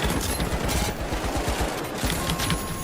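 Rapid automatic gunfire in a video game, dense bursts of shots rattling continuously and loudly throughout with no voices.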